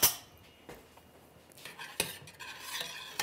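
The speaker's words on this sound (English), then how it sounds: "I'm going to give my milk a little stir" Milk is stirred in a pot over medium heat for a chocolate orange mousse: a few soft spoon scrapes and light clinks against the pot, quiet and sparse, with no voices.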